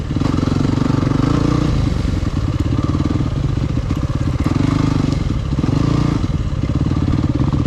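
Loud, close engine of a Yamaha WR250F off-road motorcycle running continuously on a snowy mountain trail, with throttle rising and falling and rattling, clattering noises as it rides over rough ground.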